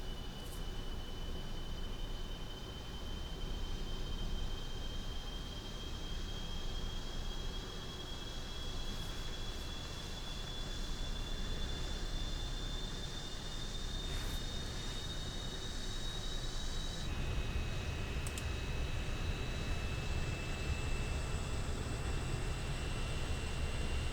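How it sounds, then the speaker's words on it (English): Right jet engine of an A-6 Intruder spooling up in Microsoft Flight Simulator, a steady high whine over a continuous broadband roar that holds for the whole stretch, with the pitch shifting slightly near the end. "The right engine's coming to life."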